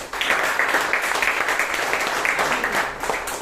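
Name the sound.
audience applause at Toastmasters meeting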